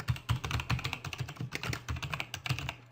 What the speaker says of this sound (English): then I'm going to go ahead and type in roughness contrast